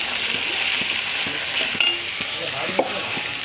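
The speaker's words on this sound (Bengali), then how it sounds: "এই টমেটোটা দিলাম, টমেটোটা দিলাম, দিয়ে নাড়াচাড়া করছি" Tomatoes sizzle in a pan while a utensil stirs them, making a steady frying hiss marked by rhythmic scraping strokes and a couple of louder clinks against the pan.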